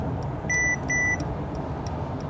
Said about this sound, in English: It gives me a quick alert warning me that there's someone up my inside.